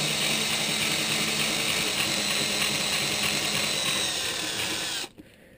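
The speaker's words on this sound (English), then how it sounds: "with our 1/4 inch bit, and we're going to drill on either side of this fuse here" A power drill with a 1/4 inch bit bores steadily through thick plastic resin beside a fuse on a 37mm round, a loud continuous whine for about five seconds that stops abruptly near the end.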